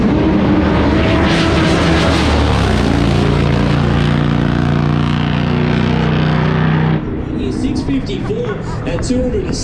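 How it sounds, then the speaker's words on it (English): A Top Fuel drag racing motorcycle runs at full power on a drag strip, a loud, harsh droning engine roar that cuts off sharply near the end and leaves a fainter, broken rumble. "Top Fuel motorcycle, he's in full stage."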